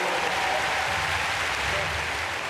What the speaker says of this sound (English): And a very warm applause